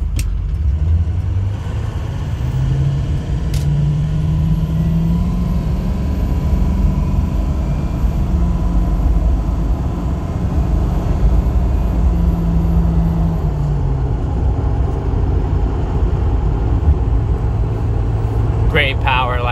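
A 2006 Ford F350 King Ranch with the 6.0L diesel drives at about half throttle, its engine drone and road roar loud and continuous from inside the cab, with a faint change in pitch as it pulls.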